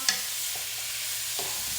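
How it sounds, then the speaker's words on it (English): Shrimp sautéing in a single pan for a keto cauliflower risotto, a constant bright sizzle with a sharp clink at the start and a couple of soft stirring scrapes, close and alone without speech. "So everybody has a way of cooking their shrimp. I'm just sauteing these around."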